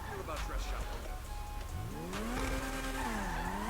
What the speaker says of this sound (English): so I just floor it and then brake